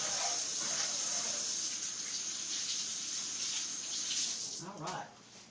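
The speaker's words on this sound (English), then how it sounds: "Let me wash my hands off real quick." Tap water running steadily into a sink for hand washing, a continuous hissing flow that fades near the end.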